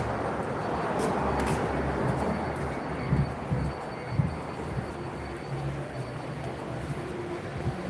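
A train rumbling steadily past a building beside the tracks in a city, heard on a walk home; the low, continuous roar with clattering carries through all eight seconds, a few faint thumps rising over it.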